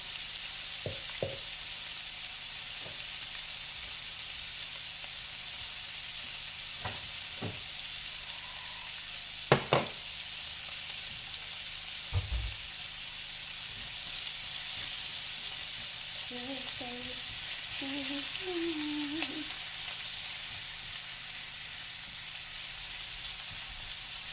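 Southern fried cabbage sizzles steadily in a pan, a constant close hiss with a few sharp clunks and scrapes of stirring utensils scattered through.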